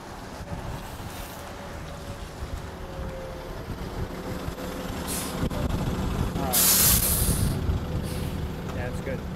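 A city bus rolls in with a low engine rumble building under steady outdoor wind noise, then a loud burst of air-brake hiss as it stops nearby, with people talking around it.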